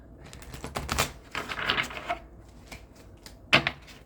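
A tarot deck being shuffled by hand, a quick burst of riffling card flicks followed by a short pause and a few lighter shuffles, ending with one sharp card snap, close and fairly quiet.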